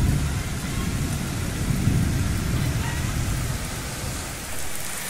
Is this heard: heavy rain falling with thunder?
yes